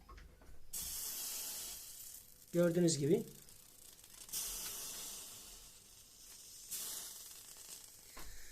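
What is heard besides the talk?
water drops sizzling on a hot 12 V heater plate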